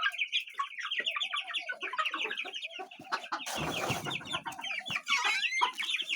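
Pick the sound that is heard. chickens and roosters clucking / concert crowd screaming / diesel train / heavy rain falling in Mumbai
chickens and roosters clucking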